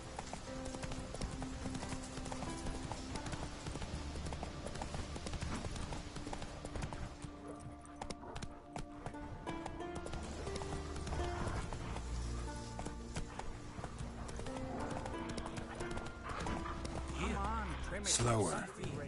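The horse Roach galloping in the video game The Witcher 3, steady rhythmic hoofbeats running under game music and effects, with voices talking over it and a brief whinny near the end.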